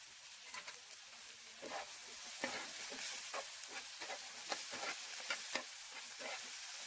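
Chopped tomato frying with vegetables in a pan, a quiet continuous sizzle broken by frequent scraping stirs, close with no talk.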